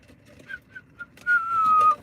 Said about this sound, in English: Oh, look, now I can whistle